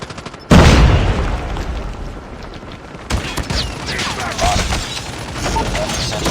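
Dense gunfire and explosions from a Call of Duty multiplayer match, featuring shotgun play: a sudden loud barrage of rapid shots and booms that starts just after a brief quiet moment and keeps rolling with fresh bursts throughout.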